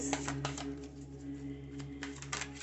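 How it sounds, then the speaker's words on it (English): Tarot cards being shuffled by hand make quick, close, papery riffles and taps in short bursts over a steady low background hum. "I'm just shuffling the tarot cards right now"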